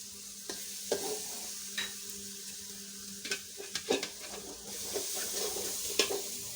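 Turmeric and coriander powder sautéed with salt in a pan for an alu ghati dish, a soft, fairly quiet sizzle with scattered sharp scrapes and taps of stirring, no talk.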